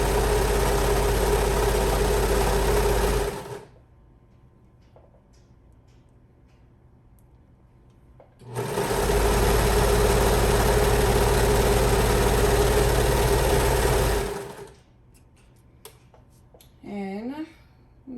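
A sewing machine stitches a seam on a bodycon T-shirt dress, running in two long, steady, loud bursts of rapid mechanical whirring with a quiet pause between them. A voice speaks briefly near the end.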